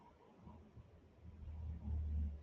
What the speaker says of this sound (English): Cars driving by.